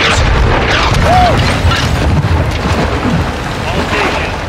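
Artillery strikes in a Modern Warfare campaign mission land as heavy rumbling booms, loud and close, rolling together in a dense continuous roar with voices briefly talking over it.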